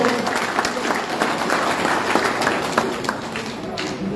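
Crowd applause at a Yoruba Nation awareness rally in Ilorin, Kwara State, a dense steady patter of many hands clapping throughout with voices mixed in underneath.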